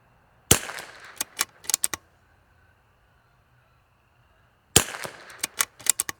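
Gunshots from L3I Stinger ammunition fired in an accuracy test: two close volleys of about half a dozen sharp, loud cracks each, in quick irregular strings separated by a few seconds of quiet.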